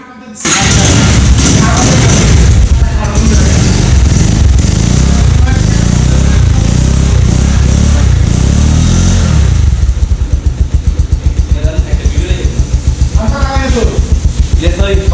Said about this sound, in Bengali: বাইকটা স্টার্ট দিয়ে সাউন্ডটা শোনায় তাহলে বুঝতে পারবেন